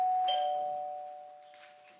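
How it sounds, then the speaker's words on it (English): A doorbell rings once indoors, a clear sustained electronic chime tone that slowly fades, heard close and alone, ending with a brief sharp noise. "Now you're ready to add the doorbell."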